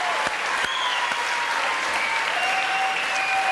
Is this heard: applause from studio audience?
yes